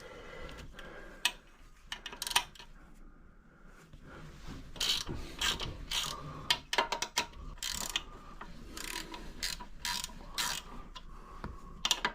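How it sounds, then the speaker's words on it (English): A ratchet wrench clicks in quick, uneven bursts while bolts are taken off a custom-built bike in a home workshop, with near, sharp ratcheting interspersed with metallic rubbing and short pauses. "Gotta take these bolts off."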